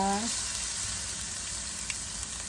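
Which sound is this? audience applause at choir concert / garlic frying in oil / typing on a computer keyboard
garlic frying in oil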